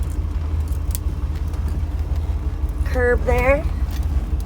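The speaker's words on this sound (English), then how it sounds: "there's definitely some rumble under this hood" Steady low engine rumble from a 1938 Ford Sedan Delivery while driving, a constant heavy drone throughout with a brief spoken phrase over it near the end.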